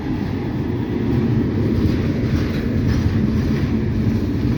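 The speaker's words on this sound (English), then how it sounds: "This is the train that we saw coming out of the harbor this morning." A train rolls past on railroad track near a harbor, a steady broad low rumble with rattling wagon noise holding constant and close throughout.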